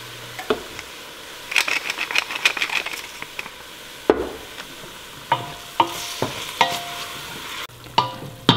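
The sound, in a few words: seasoned Peruvian soup base cooking and being stirred in pot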